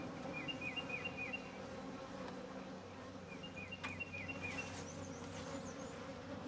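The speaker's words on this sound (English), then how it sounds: "out of the way, little bees." A busy, low buzzing of many honey bees at a hive hums steadily close by, with faint bird chirps in the background and no talking.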